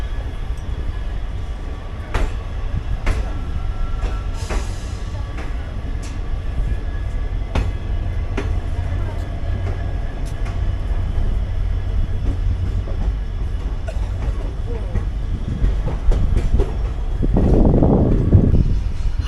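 Passenger train 14736 running from Patiala towards Abohar, a steady rumbling rail roll continuing throughout with occasional clicks and a louder surge near the end.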